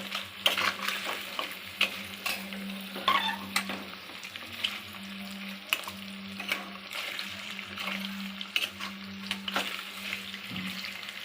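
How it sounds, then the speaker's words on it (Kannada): Paneer cubes frying in a pan, a steady soft sizzle broken by frequent clinks and scrapes of a spatula stirring, fairly close and quiet, with no talking. "ಇವನ್ನ ಫ್ರೈ ಮಾಡ್ಕೊತೇನೆ ಪನ್ನೀರನ್ನು ಮೊದಲು."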